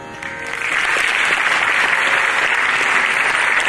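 Concert audience applause, a dense, steady wash of clapping that swells within the first second and holds loud and even throughout.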